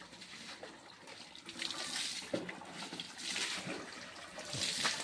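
Water splashing and running while a pet dog named Maxi is bathed in winter, a steady rushing wash broken by irregular sloshes and splashes close by, with no clear talk.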